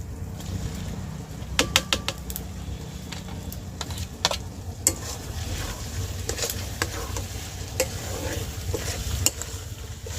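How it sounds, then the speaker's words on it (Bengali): Fried potatoes tipped into a spiced masala curry for gugli (freshwater snails) and stirred in a pan, giving a steady sizzle with sharp clinks and scrapes of a spatula against metal, close and fairly loud. "এবার আমি আলু ভাজাটা দিয়ে দেবো"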